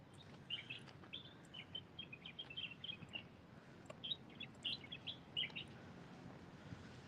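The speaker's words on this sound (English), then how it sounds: "we're just listening to the birds" Faint, distant birdsong in a park: repeated high chirps and short trills come and go over a quiet outdoor background.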